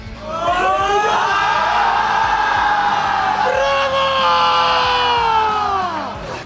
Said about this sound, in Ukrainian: Оплесками усі привітали Андрія Кітелу з дебютом